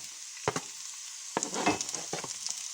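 Vegetable chunks for fried rice frying in oil in a pan, with short bursts of sizzling and stirring scrapes coming in irregular clusters, fairly close and moderately loud, with no talking.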